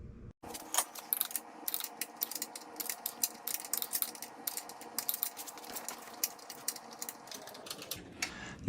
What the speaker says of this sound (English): Now I just got to tighten up the two bolts up on the frame behind the tire.